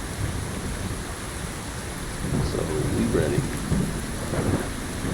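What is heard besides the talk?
rain and thunder in video game Fallout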